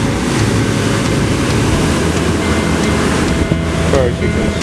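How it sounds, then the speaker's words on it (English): Chaotic ocean waves break off the coast of Maui, a continuous roaring wash of surf with wind buffeting the microphone and no pauses. "we stopped to just check out how crazy these waves were and watch for a little bit"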